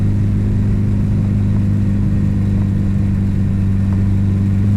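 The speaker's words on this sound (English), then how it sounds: "I'll downshift for this one here" Turbocharged 4G63 engine of a Mitsubishi Evo 6 running steadily from inside the car, a loud continuous low drone with a slight change in pitch as it downshifts.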